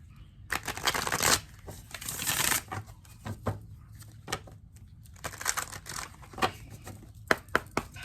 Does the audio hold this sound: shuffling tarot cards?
yes